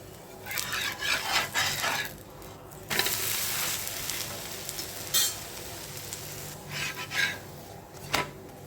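Adai batter sizzles on a dosa griddle rubbed with onion, a soft close hiss that swells and fades in bursts, with scraping and rubbing sounds from the pan.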